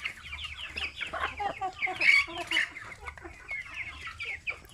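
Native chickens cluck steadily and fairly close while being fed eggshells, rice and sliced bread, with overlapping calls from several birds and no talking.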